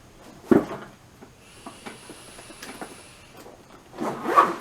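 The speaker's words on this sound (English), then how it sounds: "Has two zippers on either side." A zipper is drawn open along a hard-shell camera equipment case, giving a short rasping pull between soft handling knocks and rubs, fairly quiet and close.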